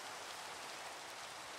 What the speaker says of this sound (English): I can turn the rain off, yeah, but not this, not the pitter patter of.